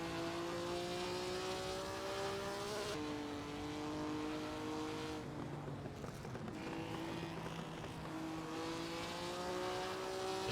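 A race car engine in a racing game at the Bremgarten circuit drones steadily at high revs, pitch dipping on gear changes and braking before climbing again, loud and continuous with no voices.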